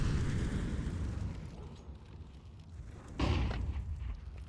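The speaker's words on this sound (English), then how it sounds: "Comes the flashbang in as well." A flashbang grenade goes off in a Counter-Strike match, a single muffled burst partway through, preceded by a low rumbling game-ambience wash.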